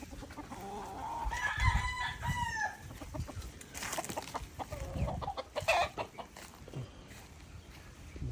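Pet chickens at a rural home cluck nearby as a rooster crows once in a rising, drawn-out call, set against faint outdoor background noise.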